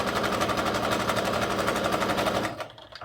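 A sewing machine runs in a steady, fast, even rhythm as it stitches down the left and right sides of a reversible bucket hat at a quarter-inch seam allowance, then stops abruptly near the end.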